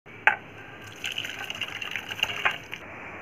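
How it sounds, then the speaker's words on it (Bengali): Hot, thin curry broth from an egg and potato dish poured into a bowl of ground garam masala, a steady close liquid splash and trickle after a sharp initial clink. "এখন আমি ঝোলটা এর মতো ঢেলে দেবো"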